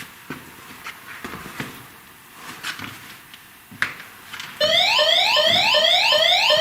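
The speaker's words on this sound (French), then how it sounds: "Une alarme, c'est normal, c'est le détecteur de mouvement." A house motion detector alarm in a dining room bursts into a loud, continuous electronic whooping siren of rapid repeating rising sweeps, starting partway through after a stretch of quieter shuffling room noise.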